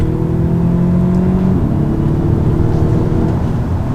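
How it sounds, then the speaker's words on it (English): A 2016 Audi S3 Prestige with a 2-liter four-cylinder turbo engine pulling in third gear, a steady whirring engine tone with a drop in pitch partway through, heard under road noise. "We'll do another third gear pull, just getting up to some speed."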